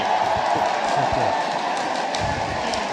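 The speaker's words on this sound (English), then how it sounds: "The crowd is going crazy for that." Crowd at an esports match roaring and cheering as a steady, loud wash of noise that carries through the whole moment.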